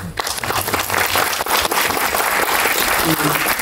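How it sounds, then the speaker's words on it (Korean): Applause from the audience at a Jeonju International Film Festival screening Q&A, loud continuous clapping from a full cinema crowd with a faint voice briefly mixed in underneath. "박수 한번"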